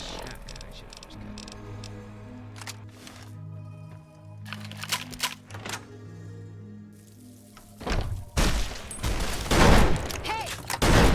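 Shotgun blasts in Fallout New Vegas come as sharp, loud cracks late in the scene, following quieter thunks and game music.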